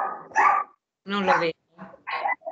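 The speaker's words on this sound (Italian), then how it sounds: "Cagnolino che abbaia" Small dog barking at a meeting, a few short yappy barks in separate bursts, close and fairly loud, mixed with a person speaking.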